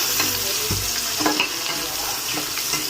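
Onions and green chillies for chicken biryani frying in a pan, a close, continuous dense sizzle with a few soft knocks of stirring throughout.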